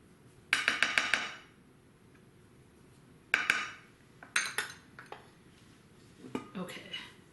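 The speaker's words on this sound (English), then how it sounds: "So let's get everything off the beater too, because we want as much cake as possible." Metal mixer beater scraped and tapped against a dish while clearing off cake batter, giving clustered clinks and scrapes in short bursts with quiet gaps between.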